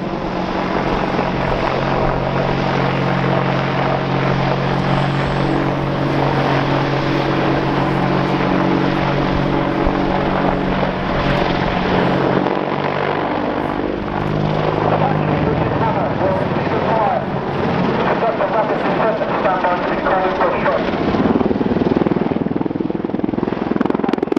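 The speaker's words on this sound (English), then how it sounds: "the aircraft is now climbing up into height using a zoom climb to give them a better perspective into the target area" An Army Air Corps Apache attack helicopter climbs at the Dunsfold Wings & Wheels air show, its rotor thumping and turbine roaring steadily loud throughout while a commentator talks over the public address.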